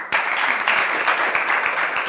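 Applause from the gathered schoolgirls breaks out suddenly and holds steady, a dense, close round of many hands clapping without talk.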